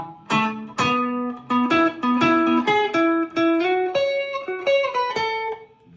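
Electric guitar playing a solo phrase, a run of plucked single notes stepping upward with some bends and ringing tails, clear and alone.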